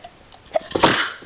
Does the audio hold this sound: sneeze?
yes